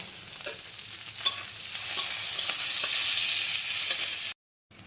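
Sliced onion frying in hot oil in a pan, a steady close hiss and sizzle that swells gradually, with occasional scrapes of stirring, before cutting to silence at the end.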